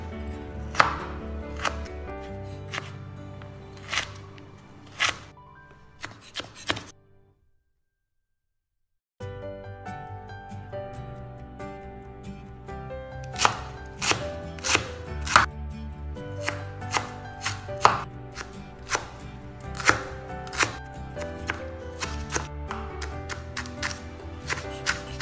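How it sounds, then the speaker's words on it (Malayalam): Carrot and cabbage finely chopped with a knife on a board: rapid, crisp, evenly spaced strikes, close and clear, pausing for about two seconds of silence before resuming at a steady pace. "ഇനി ക്യാരറ്റും അതുപോലെ ക്യാബേജും കൂടെ ഇതുപോലെ നല്ല പൊടിയായിട്ട് തന്നെ അരിഞ്ഞെടുക്കണം"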